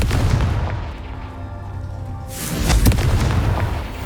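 A Confringo blasting spell explodes in Hogwarts Legacy, a sharp burst rising out of a rumbling low bed, followed by a brief crackling tail.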